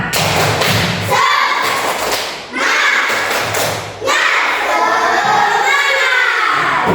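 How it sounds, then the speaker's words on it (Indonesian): A classroom of students performs a rhythmic clapping chant, with loud, dense, repeated claps and thumps mixed with shouting voices in short bursts across the whole stretch. "ice breaking kita adalah tepuk semangat"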